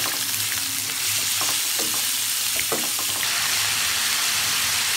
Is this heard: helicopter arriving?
no